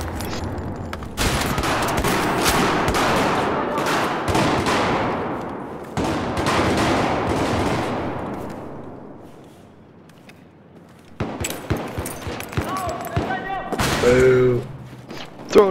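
Gunfire in Battlefield 4 on a 32-player Silk Road Domination map, long loud bursts of automatic fire and rapid shots filling most of the stretch, with a short lull before more shots and scattered noise return, while players talk over it.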